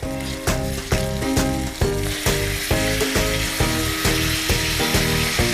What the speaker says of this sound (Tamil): போட்டு வதக்கலாம். நல்லா வதக்கி விட்டுட்டு